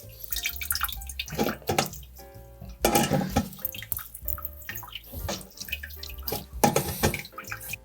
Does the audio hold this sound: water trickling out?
yes